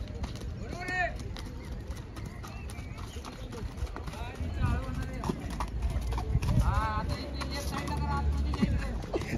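Horses walk along in Mahabaleshwar, their hooves clopping in an uneven steady rhythm close by while several people talk over them.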